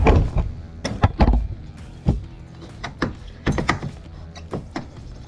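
Metal pins being pushed through the joints of Pond King dock sections outdoors, producing a series of irregular, close knocks and thunks with scraping in between, fairly loud.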